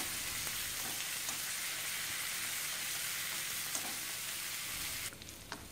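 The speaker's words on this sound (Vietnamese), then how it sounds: "Dầu nóng thì mình sẽ cho hành tỏi vào mình phi thơm" Garlic and shallots frying in hot oil, giving a steady, dense sizzle that continues loud and unbroken before easing slightly near the end, with no talk over it.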